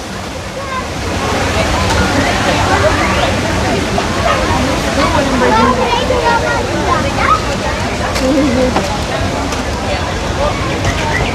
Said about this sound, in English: Got this waterfall going again, and it's broke for quite a while.